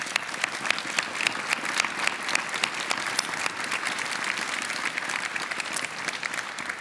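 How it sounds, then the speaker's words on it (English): An audience at the International Children's Peace Prize ceremony applauds, a steady, full wash of many hands clapping that carries on evenly for several seconds. "So let's start with an applause for that effort."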